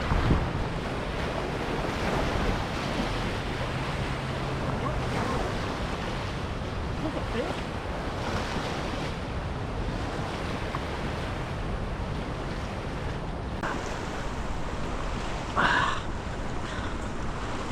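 Loud, steady roar of a flooded river rushing after a hurricane fills the whole clip, with wind buffeting the microphone and a brief splash near the end.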